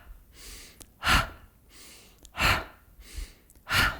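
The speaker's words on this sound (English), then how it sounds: "breathing in through the nose, out your mouth with this gentle ha sound" Three slow, gentle mouth exhalations with a soft breathy ha quality, evenly spaced about every 1.3 seconds during a relaxing breathing exercise, with quiet nasal inhales between them, close and alone.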